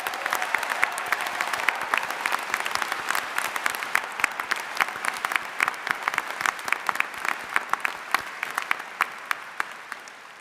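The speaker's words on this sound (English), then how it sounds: "Round of applause for our graduating students." Audience applause for graduating students at the 2025 Michigan Ross commencement, a dense, steady wash of many hands clapping that holds evenly through the whole stretch with no voices over it.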